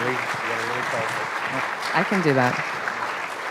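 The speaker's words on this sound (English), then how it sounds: "please, round of applause for Carrie Hamady, the Department Chair, Public and Allied Health" Audience applause at a public and allied health symposium keynote forms a steady wash, and a single voice speaks briefly over it.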